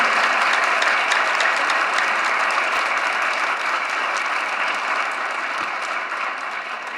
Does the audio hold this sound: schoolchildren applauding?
yes